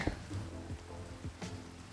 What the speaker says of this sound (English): Hey, Ari, we got some rain, man